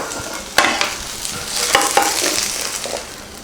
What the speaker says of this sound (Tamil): இப்போ இதை மாற்றிட்டு கடலையை வறுத்துக்கலாம்